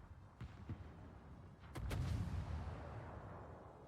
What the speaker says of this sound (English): So the Jean Bart is shooting and making good contact.